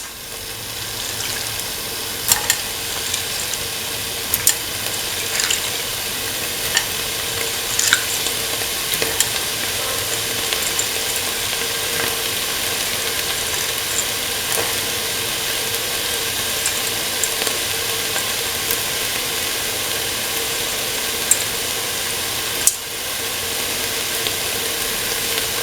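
Green peas stirred in a hot pan for a cauliflower and coconut milk stew, a steady close sizzle filling the whole stretch with small scraping clicks from the spoon scattered throughout.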